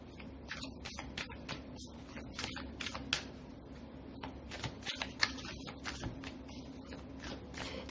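Tarot-style cards are shuffled and drawn for a card reading: a rapid, close flurry of soft flicks, snaps and papery riffles at a quiet level, with no voices.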